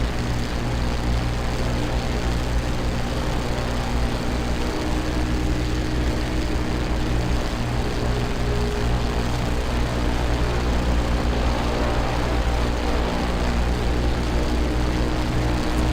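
A propeller airplane's engine drones steadily in cruise flight in Microsoft Flight Simulator, on a leg from Gibraltar to Casablanca, Morocco; a loud, constant, unbroken hum with no talking.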